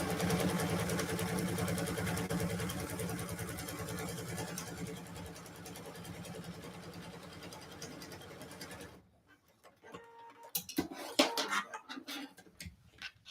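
A sewing machine runs steadily for about nine seconds while stitching a quilt block past the seam allowance. Its motor hums close and continuous, then stops, followed by a few quieter handling clatters.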